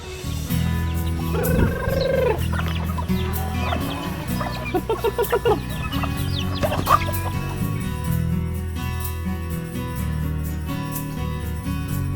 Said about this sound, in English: You feed the chickens and turkeys.